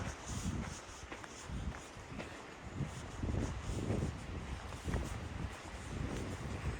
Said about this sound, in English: It's very windy, which is, in my opinion, adding to the majesty of the area.